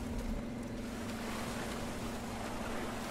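Ocean waves in the fishing game Fishing: North Atlantic, heard at the shore: a continuous, even wash of surf and wind with a low rumbling undertone, steady throughout and with no talking.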